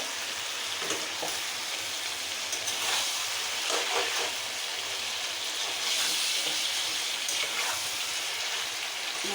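Chicken sizzling in a pan with ginger and garlic paste for a Bengali chicken kosa, a continuous close frying hiss broken by occasional stirring scrapes, no voices.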